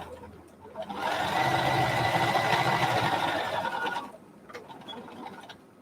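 A sewing machine runs a basting-style seam through fabric for a face mask, a close, steady whirring hum lasting about three seconds, with quieter handling clicks before and after.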